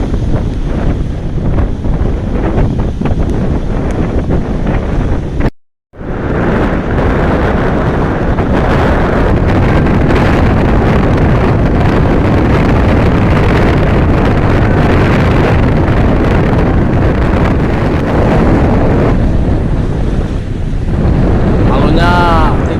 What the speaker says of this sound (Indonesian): Anginnya kencang banget, anginnya dari barat.